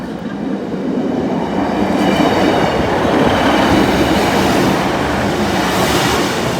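Locomotive 56411 hauls a train past a level crossing, a loud, close, continuous rumble and roar of wheels on rail with faint rhythmic clatter throughout.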